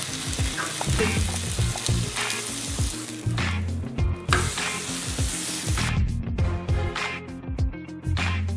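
Cured bacon sizzles loudly in a hot pan, with a dense crackle, irregular scraping and flipping clatters, and some brief bursts of spattering throughout.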